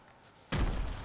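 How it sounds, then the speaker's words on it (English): A grenade blast in the video game Fortnite: quiet for half a second, then a sudden loud boom with sustained crackling rumble that carries on to the end. "Grenades."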